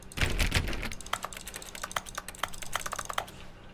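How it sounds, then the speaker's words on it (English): Rapid keyboard-like typing clicks sound in The Stanley Parable: Ultra Deluxe, coming in irregular close bursts over a faint background. "If I just click, it sounds like typing."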